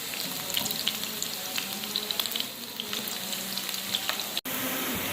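Chopped onions frying in a pan while being softened to light gold for a brain masala fry, a steady close sizzle with scattered crackles and a sharp click near the end.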